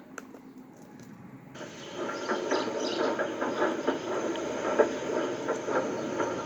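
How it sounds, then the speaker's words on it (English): A train rumbles along the rails with a steady mechanical roar and faint rhythmic clatter, growing louder after the first second and a half. "He must be with Yakko and Wakko with the breakdown train."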